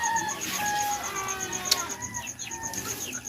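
Chickens at feeding time give repeated clucks and calls, with a sharp high chirping tone running steadily through a busy outdoor background; one brief flutter of sound stands out midway.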